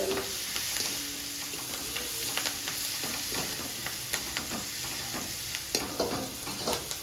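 Spices sizzle in hot oil in a pan with onion, curry leaves and chillies for a dal fry while a spoon stirs them. The frying hiss is steady and close, with light scraping taps of the stirring spoon throughout.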